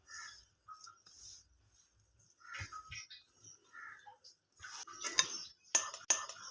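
Semolina dough for jaggery fenugreek tikkiya is mixed in a bowl, with quiet intermittent scraping and clinking of a utensil against the bowl, growing to a few sharper knocks near the end.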